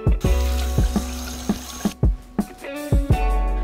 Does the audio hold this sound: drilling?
no